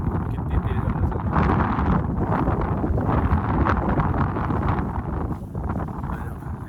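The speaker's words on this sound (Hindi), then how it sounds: "कितनी तेज हवा चल" Strong wind on the Flag Point mountain trek near Chitkul buffets the microphone in a continuous loud roar that swells and eases, with a voice speaking under it.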